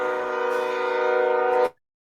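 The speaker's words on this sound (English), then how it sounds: "I heard the train cut in right there." A passing train sounds a steady, loud, tonal horn-like drone for under two seconds, then cuts off abruptly into silence.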